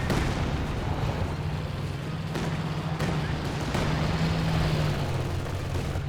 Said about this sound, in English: Got another Katusha barrage there.